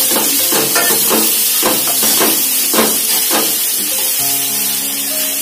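Vegetables, capsicum and cabbage, hiss and sizzle loudly as they hit a hot pan for veg chowmein, with steady frying crackle and a few bursts of stirring throughout, no voices.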